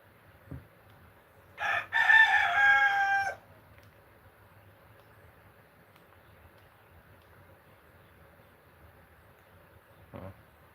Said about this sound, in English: these roosters